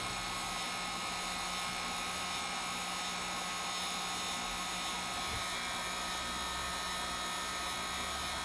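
A heat gun blowing hot air onto a Samsung S9 Plus screen during repair, a constant broadband whooshing drone with a steady motor hum, even and unbroken throughout.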